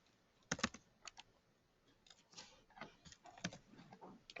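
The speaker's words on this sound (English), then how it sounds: "typing." Computer keyboard typing during a game-programming session, with short bursts of key clicks and a few isolated taps spread over a few seconds, close and fairly quiet with no voice.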